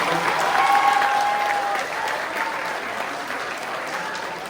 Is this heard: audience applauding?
yes